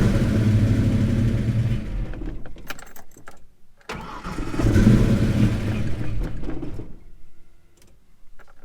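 A 1990 Ford Mustang GT V8 with a rough idle starts and runs unevenly, loud and close, surging then cutting out, catching again and fading into a struggling idle.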